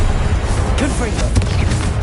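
A Confringo blasting spell bursts in Hogwarts Legacy on PS5, a short rough explosive crash amid busy combat effects, with a voice briefly heard over the noise.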